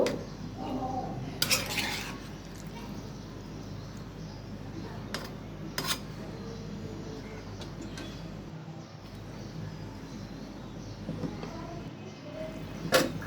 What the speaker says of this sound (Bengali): এখন ভালো করে মিক্স করে নিব